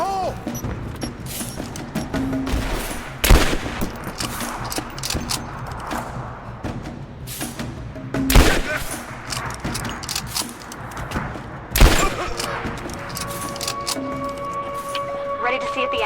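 Gunfire in Rise of the Tomb Raider comes as a few sharp, loud cracks spaced seconds apart over a busy combat background, with voices talking throughout.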